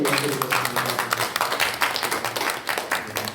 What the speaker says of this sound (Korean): 우리 모든 영광을 우리 아버지 하나님께 영광의 박수로 올려드리겠습니다.